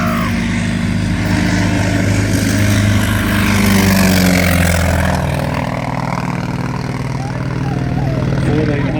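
A T-28 Trojan propeller aircraft with a 1,820-cubic-inch, nine-cylinder radial engine of 1,425 horsepower flies past at an airshow display. A deep, loud, throbbing drone swells and then eases as the plane passes.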